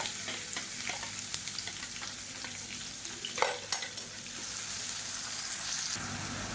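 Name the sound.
chopped onions and green chillies sautéing in oil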